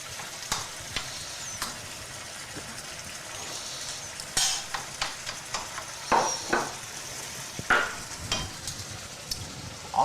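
Tortillas frying in a small amount of oil in a pan, a steady soft sizzle underneath with scattered louder crackles and pops, plus occasional clinks of utensils against the pan.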